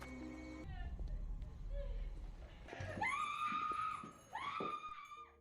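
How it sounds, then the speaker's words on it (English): A woman's high, drawn-out screams rise over a low rumbling background, two long anguished wails in the second half. "they immediately start hearing the sound of a young woman screaming in agony"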